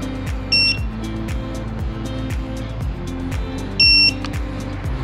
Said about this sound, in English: hold the code button in for 3 seconds till you hear an audible beep.